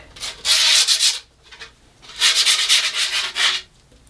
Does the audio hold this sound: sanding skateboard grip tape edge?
yes